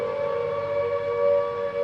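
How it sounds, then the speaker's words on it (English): Steady air raid all-clear siren holding one continuous unwavering tone, loud and sustained with no rise or fall, no voices over it. "In its place now was the all-clear siren"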